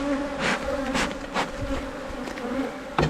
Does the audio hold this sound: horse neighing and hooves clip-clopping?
no